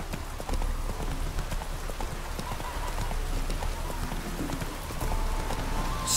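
Horse hooves clip-clop in a steady rhythm throughout The Witcher 3 video game, mixed with soft rain-like ambient noise.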